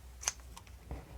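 Scissors snipping crochet yarn, a couple of soft, quick snips close by in a quiet room, faint and brief.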